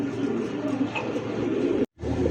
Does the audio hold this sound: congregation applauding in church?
no